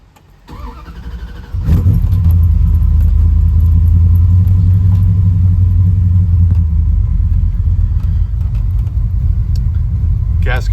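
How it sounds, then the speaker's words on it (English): A 1996 Ram 1500 with a Holley Terminator X setup cranks and fires, then settles into a loud, steady, deep rumbling idle heard close up, with a faint jingle of keys just before the start. "So I'll start it up for you guys."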